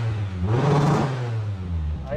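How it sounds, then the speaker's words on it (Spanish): A DSM car engine with a LinkECU revs up and falls back in one rough, loud surge lasting about two seconds, heard close up. "ahí está activándose el two-step"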